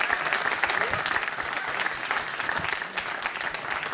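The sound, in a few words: applause for elected officials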